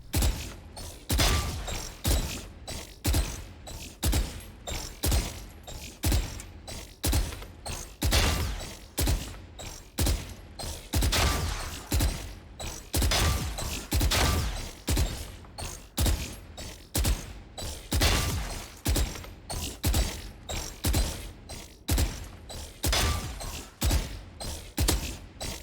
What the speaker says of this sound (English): let's head on to Valorant shooting range, shall we?